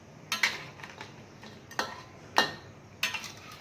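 Flower crab being stirred and turned in a pan, with a handful of sharp utensil scrapes and clinks against the metal at irregular intervals over quiet background hiss.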